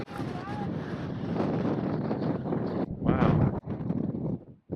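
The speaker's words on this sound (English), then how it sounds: "Windy as all get out up here." Strong wind gusting through a canyon at Canyon de Chelly, roaring and buffeting the microphone nearly the whole time and briefly easing near the end, with a single spoken exclamation.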